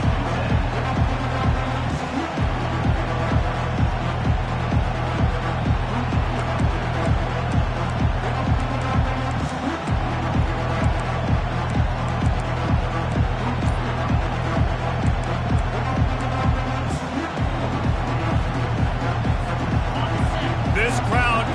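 Stadium crowd in a Madden football game: a steady, loud roar of massed spectators runs throughout with a rhythmic pulsing texture and brief dips, and a commentator's voice intermittently over it.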